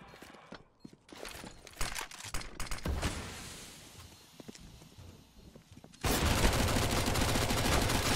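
Rapid video-game gunfire from a multiplayer match rings out in bursts of shots and volleys, ending in a sustained loud burst of continuous firing.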